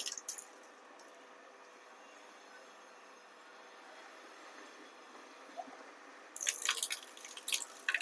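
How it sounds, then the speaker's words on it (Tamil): Water trickles and hisses quietly out of a 1000 LPH commercial reverse osmosis plant filter in a steady, faint stream, with a few soft drips and splashes near the end. "இப்போ நம்ம உள்ள தண்ணி போயிட்டு வெளியில் வருது."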